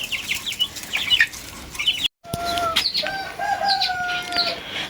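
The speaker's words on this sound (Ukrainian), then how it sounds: "Отакі курчата." Hens clucking close by alongside high thin chick peeps, with a short gap of silence midway, then clucks and sustained peeping resume.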